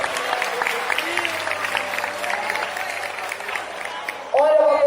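Applause from a church congregation continues under loud chatter and voices, ending with a person speaking up close.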